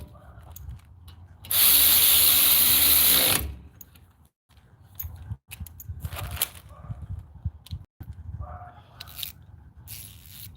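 An ACDelco power ratchet spins a fastener on the front brake of a 2017 Ford F-150, one loud buzzing whir lasting about two seconds, followed by quieter clicks and clanks of handling.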